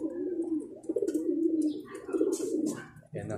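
Low rolling pigeon coos repeat close up, joined by scattered flutters and light higher sounds, with a voice faintly in the background.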